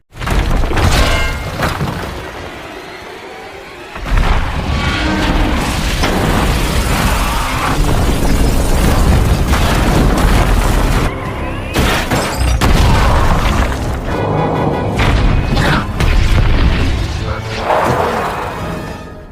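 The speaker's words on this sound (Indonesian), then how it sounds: "Lahar panas menyebabkan pipa meledak dan terjadi ledakan di mana-mana" Loud, booming explosions and crashing debris from the disaster film Geostorm, as bursting pipes blow up buildings, roll on almost continuously, dense and heavy, with a brief lull early on before the blasts resume.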